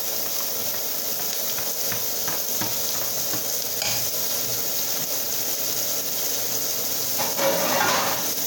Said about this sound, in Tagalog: Ayan, lagay na po yung sibuyas.